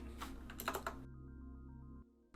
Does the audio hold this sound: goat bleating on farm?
no